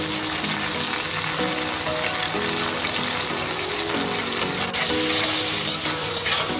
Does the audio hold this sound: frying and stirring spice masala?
yes